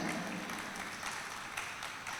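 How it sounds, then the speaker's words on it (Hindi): Sustained applause from an audience at a Jain religious discourse, steady and fairly dense clapping filling the whole stretch without a break. "जोरदार तालियां बजाएं"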